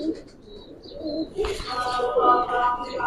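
Silver Pankhi military pigeons coo softly at close range, with low murmuring calls among faint chirps and rustling, in a pigeon loft.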